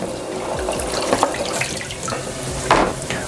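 Kitchen tap running into the sink during washing up while cooking chilli con carne, a loud close gush of water with splashes and clinks, no talk.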